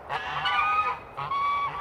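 Farmyard geese kept as guards honk loudly and nearby in two bursts of harsh, nasal calls separated by a brief pause, with no talking.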